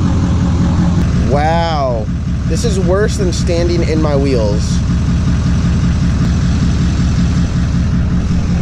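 A truck's engine idles as a steady low rumble throughout on a cold day, with a person talking over it near the middle.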